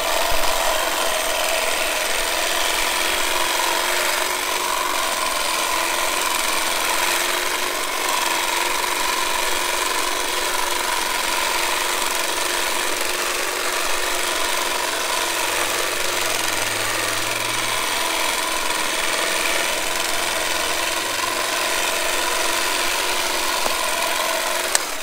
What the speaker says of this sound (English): this is an area where we wanted to test out the hedge trimmer